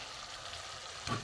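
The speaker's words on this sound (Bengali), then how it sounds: "এখানে আমার ভেজে রাখা আলু পটল আমি দিয়ে দেবো।" Steady sizzle of a spice masala in hot oil, with fried potato and pointed gourd tipped into the pan near the end, bringing a brief louder burst of frying and clatter for a vegetarian curry.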